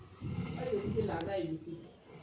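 A storyteller's voice imitates the loud snoring of the wolf from a fairy tale, a drawn-out nasal rasping breath, faint and close, heard alone without words.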